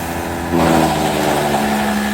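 Mini tractor engine of at least 15 HP driving a coconut shell grinding machine, a steady droning hum that swells louder after a brief moment and keeps running evenly, with no talk.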